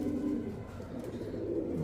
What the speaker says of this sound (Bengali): এটা রেসার কবুতর